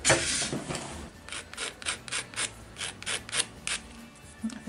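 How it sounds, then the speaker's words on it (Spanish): Sandpaper rubs against a handmade craft replica of Link's sword in close, rhythmic rasping strokes, each scrape rising and falling in quick succession with no voices. "damos una lijita"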